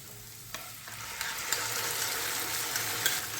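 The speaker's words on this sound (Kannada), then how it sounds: "ಈರುಳ್ಳಿ ಎಲ್ಲ ಫ್ರೈ ಆಗಿದೆ. ಈಗ ಮಸಾಲ ಪೇಸ್ಟ್ನ ಹಾಕ್ಕೊಳ್ತಾ ಇದ್ದೀನಿ." Onions and masala paste fry in a pan for a fish dish, a steady soft sizzle with occasional stirring clicks and scrapes, fairly quiet and close, no voices.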